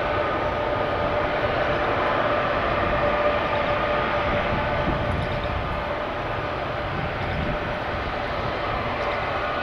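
Airbus A321neo airliner arriving at an airport on approach, a steady broadband engine roar holding loud and close throughout with no gaps.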